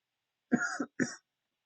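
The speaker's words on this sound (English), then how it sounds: "Sorry if I'm coughing a lot." Two short, harsh coughs close together, near and fairly loud, with silence before and after.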